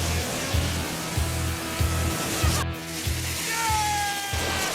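Two-stage rockets fire on a surfboard with a steady, loud roaring hiss and a rhythmic pulsing thrum, broken by a sharp crack midway, then a rising whine as the second stage takes over.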